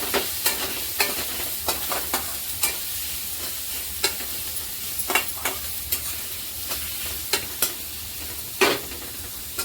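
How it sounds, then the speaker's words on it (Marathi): Finely chopped onions are stirred in a hot pan for a dry green bean bhaji, a low sizzle punctuated by irregular scraping strokes of the spoon against the pan, close and with no voices. "दोन कांदे बारीक चिरून घेतले ते पण छान मिक्स करायचं"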